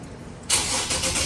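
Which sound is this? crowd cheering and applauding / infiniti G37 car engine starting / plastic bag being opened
infiniti G37 car engine starting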